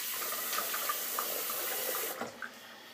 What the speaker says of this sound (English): let me get some water on the face.